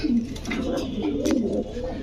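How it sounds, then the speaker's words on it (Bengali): Pigeons cooing steadily at a pigeon sale, low rolling coos repeating close by and overlapping one another in a busy setting. "কোয়ালিটি ফুল কিছু কবুতর ইসমাইল ভাই আপনাদেরকে দিচ্ছে"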